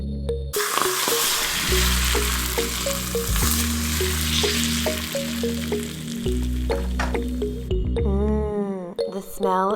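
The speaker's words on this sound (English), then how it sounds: "As soon as the hot oil touches all the spices and aromats" Smoking-hot oil hits a pile of spices and aromatics for biang biang noodles, bursting into a loud, steady sizzle that crackles throughout, with a voice talking over it and a brief bubbling, spitting flare near the end.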